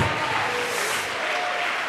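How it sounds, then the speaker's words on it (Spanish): A church congregation bursts into applause for the Lord during a sermon, a dense, continuous wash of clapping filling the whole room at steady volume for two seconds. "Dele ese aplauso al Señor."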